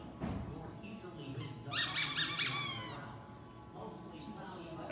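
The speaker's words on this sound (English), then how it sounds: "So the reason I'm getting a squeaker is to show you that distractions grow." A dog squeaker toy gives a loud, close run of four or five quick, pitched squeaks amid low room noise, with a person speaking briefly around it.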